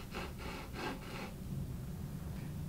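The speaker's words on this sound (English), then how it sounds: "And just slowly drill the cue into the shaper." Several quick scraping rubs as a pool cue tip twists against a rough It's George tip shaper, about four strokes, then a softer continued rubbing, close and fairly quiet.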